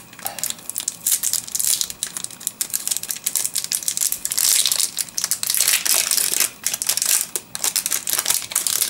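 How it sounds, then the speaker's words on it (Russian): Crinkly plastic tea packaging being opened and handled, with dense close-up crackling and crumpling bursts running steadily throughout, no talk. "давайте откроем. Кстати, тут вот есть такая прорезь, чтобы удобнее было"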